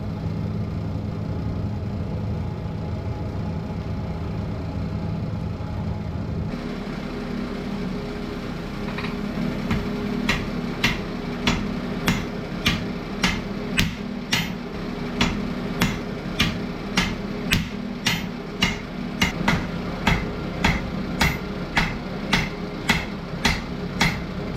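Hammer blows forging a metal part for a jib crane for a Victorian metal lathe, starting after several seconds of steady mechanical hum and continuing as a long, regular series of sharp ringing strikes that speed up slightly, loud and close, with no talking.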